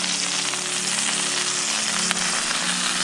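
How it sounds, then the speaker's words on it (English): Peppers and onions fry in a nonstick skillet on a stove, giving a dense, loud, continuous close sizzle with a brief crackle. "I've got peppers and onions on the stove in the nonstick skillet"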